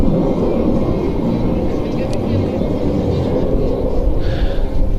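Luftwaffe Eurofighter EF-2000 jet from Tactical Air Force Wing 31 at the NATO Days air show, a continuous heavy jet roar that stays even and loud from start to finish.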